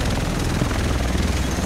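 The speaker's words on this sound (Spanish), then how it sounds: "Parece un avión más que un helicóptero." A helicopter in the shooter The Division makes a loud, steady rotor thrum and engine roar close by, filling the whole moment without any talking.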